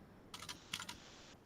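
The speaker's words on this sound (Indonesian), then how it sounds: "Ya, Pak Imam sedang mengetik" Faint clicks on a computer keyboard come in two short bursts of a few keystrokes each, quiet and close, with no talking.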